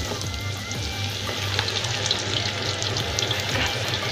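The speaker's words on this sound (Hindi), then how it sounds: "तो अभी हम लोग इसको फ्राई करेंगे।" Drumsticks frying in hot oil for a pickle, a steady close sizzle and bubbling that holds evenly throughout without talk.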